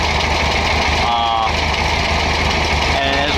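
A 1969 VW Baja with carburetor icing idling up close, a steady low engine chug with faint whining tones, loud and continuous.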